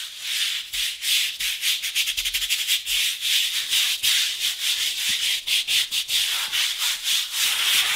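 Abrasive rubbing across a finished concrete wood stove hearth to clear surface powder, a continuous hissing scrape in quick back-and-forth strokes, close and steady with no talk.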